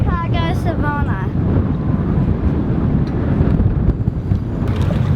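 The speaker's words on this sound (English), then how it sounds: "The wind's going anywhere between 10 and 18 knots" Wind of 10 to 18 knots blowing on a sailboat running downwind, a loud, steady roar of gusting air and buffeting on the microphone, with a brief voice at the start.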